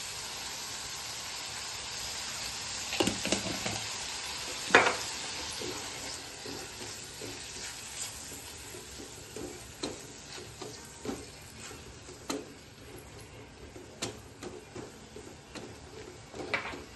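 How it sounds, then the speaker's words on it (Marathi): Onion with salt being sautéed in a pan, a steady soft sizzle under intermittent sharp clicks and scrapes of a spatula against the pan, quite close. "थोडा कांदा लाल होईपर्यंत आपण परतायचा"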